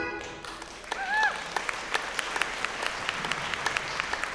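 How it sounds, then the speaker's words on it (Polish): Audience at the Młoda Łemkowyna festival concert breaks into steady applause, a dense wash of clapping with some distinct sharp claps, after a short trailing musical tone at the start. "Wielkie brawa."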